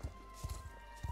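Horse hooves clip-clop in the video game Star Stable Online, three quick pairs of soft thuds at an even pace, faint under a steady background hum.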